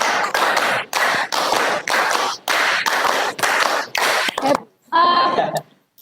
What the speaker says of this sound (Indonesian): 3 kali tepuk 5.